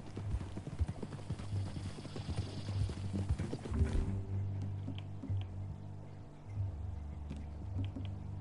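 Horse hooves in Red Dead Redemption 2 clop in a quick, steady rhythm, loud and close at first, then the beat continues more softly after a shift in the background.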